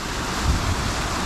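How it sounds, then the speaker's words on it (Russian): A waterfall on the Kanda river roars as a strong rapid spills over icy ledges, a loud, steady broadband rush of water with wind buffeting the microphone and no voices. "так называемый водопад"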